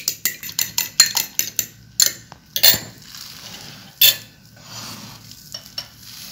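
Two eggs beaten in a bowl with cutlery, a rapid series of close, sharp clinks and taps in quick bursts, then a pause and a few scattered strikes against the dish, with no voices.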